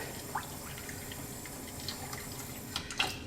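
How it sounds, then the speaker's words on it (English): Water is poured from a tap into a pot of chicken soup, giving a soft continuous splashing and trickling with a few louder drips and splatters toward the end. "I'm going to add a little bit more water."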